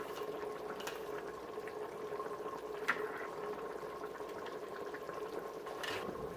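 Homemade spaghetti sauce simmers in a pot on the stove, giving a soft, steady bubbling with a few small pops and no talking.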